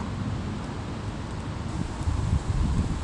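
Steady wind noise blowing outdoors, with low buffeting rumble that swells toward the end; no one speaks.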